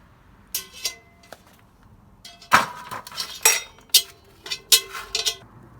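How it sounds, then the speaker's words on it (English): Charcoal briquettes drop one after another into a metal Dutch oven ash pan, giving sharp, close clinks and clatters in irregular bursts with short quiet gaps. "I'm going to put 20 coals in the ash pan on the bottom"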